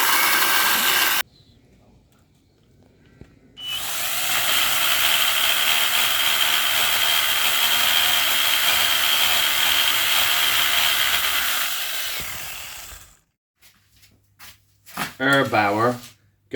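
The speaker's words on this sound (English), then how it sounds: "Erbauer garden multi-tool." An Erbauer garden multi-tool runs in a sustained, fairly loud whirring drone for about eight seconds before winding down, with brief voices at the end.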